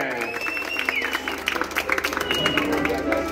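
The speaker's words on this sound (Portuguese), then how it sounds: "Pode bater palmas que merece." An audience at a husband's birthday celebration in Vila Formosa applauds in a burst of close, crisp clapping mixed with cheers, while a voice carries over it.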